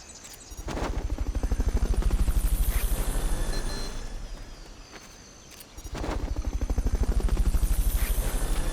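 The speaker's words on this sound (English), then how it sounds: "Fulton recovery subject confirmed onboard helicopter" A helicopter in Metal Gear Solid: Peace Walker thumps with loud, rapid rotor beats that swell, ease off briefly, then return close and steady.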